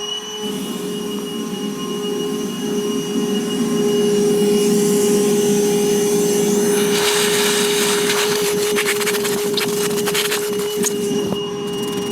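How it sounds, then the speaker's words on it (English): A vacuum hose sucks rinse water out of the engine air filter housing of a 2022 Ram 1500. The motor drones steadily and close by, and the pitch grows louder and more gurgling partway through as it pulls up liquid. "Maybe grab the vacuum to suck some of that water out of there."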